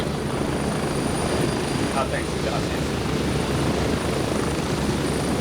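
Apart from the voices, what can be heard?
helicopter flying overhead in a video game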